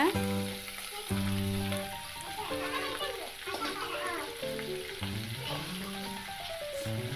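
Mutton frying in oil with mustard seeds and curry leaves for a Tamil mutton kulambu. A steady sizzle runs throughout beneath music and some background voices, including a child's.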